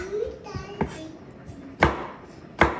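Sharp knife chops strike a board at irregular intervals as okra is cut, a few loud cuts through soft background chatter and a voice.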